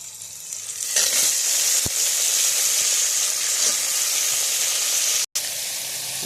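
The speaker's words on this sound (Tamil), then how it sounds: "முருங்கைக்காய் கழுவிட்டு நம்ம இப்போ எண்ணெயில் எடுத்து போட்டுக்கலாம்." Drumsticks (moringa pods) dropped into hot oil, setting off a loud, steady sizzle with a brief clatter and stirring scrapes throughout.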